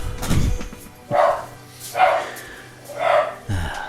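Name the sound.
dog barking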